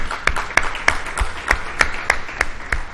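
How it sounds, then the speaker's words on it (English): Audience applause for guest speakers at a tech conference welcome session, with regular sharp clap-like bursts over a steady crowd wash throughout. "please, a round of applause for them"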